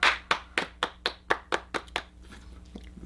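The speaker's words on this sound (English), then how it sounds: "Stupid little golf clap we have going on" A small group gives a sparse golf clap, about nine slow, evenly spaced claps close to the listener that thin out and fade into a faint scatter at the end.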